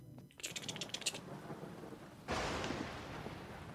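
Thunder in a stormy Halloween world of the PS4 game Dreams rumbles low and fairly faint, with a crackling burst and then a sustained rolling swell under steady rain-like hiss.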